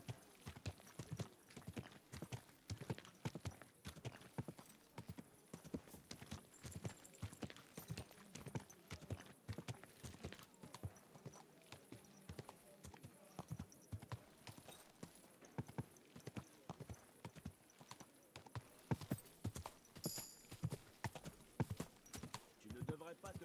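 Steady clip-clop of horse hooves walking at an even pace for a long stretch, close by and moderately loud.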